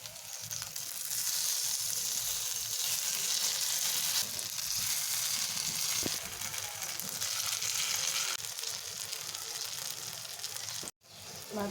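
Pumpkin flower fritters fry in a pan of oil after being flipped, giving a continuous close sizzle with faint stirring sounds. The sizzle drops out briefly near the end.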